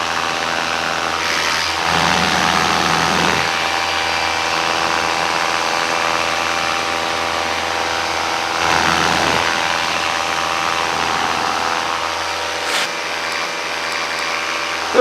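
A pull-started paramotor engine runs steadily in near-calm weather, a loud continuous buzzing drone with a few slight swells in revs, close by and with no talking over it.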